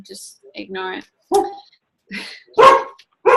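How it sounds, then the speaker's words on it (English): A dog barks several times in short sharp yaps and yips, fairly close, while a person speaks briefly between the barks. "if you hear a dog in the background"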